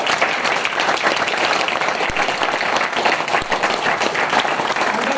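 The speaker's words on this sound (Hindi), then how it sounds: "जोरदार तालियां होनी चाहिए" Audience applause at a gathering, sustained dense clapping from many hands, loud and near, continuing steadily throughout.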